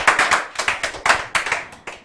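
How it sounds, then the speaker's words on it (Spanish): A church congregation claps in a brisk, uneven rhythm of sharp hand slaps, close and loud, about a dozen bursts in quick succession with no talking. "Un fuerte aplauso y tomen asiento,"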